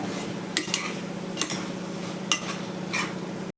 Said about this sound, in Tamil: போட்டு நல்லா வதக்கி விட்டுருங்க.